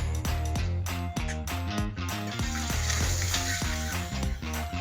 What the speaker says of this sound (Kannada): ಈರುಳ್ಳಿ ಚೆನ್ನಾಗಿ ಫ್ರೈ ಆಗುತ್ತೆ.